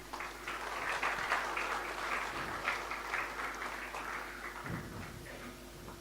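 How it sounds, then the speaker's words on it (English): Steady applause from a seated audience at an Ambedkar memorial day function at the Governor's residence in Tamil Nadu, with a broad, even wash of clapping that holds through the whole span and thins slightly near the end. "Good round of applause."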